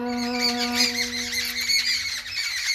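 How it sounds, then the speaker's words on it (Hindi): Shrill, squawking bird calls chatter continuously alongside a steady tonal hum, fairly close and busy throughout. "हमारे यहाँ चिड़िया बहुत चहक रही है"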